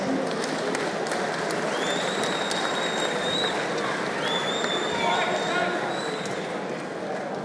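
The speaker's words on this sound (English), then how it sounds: "a round of applause" Crowd at a boxing event in Oldham claps for a boxer, continuous dense applause with whistles and a voice calling out over the top throughout.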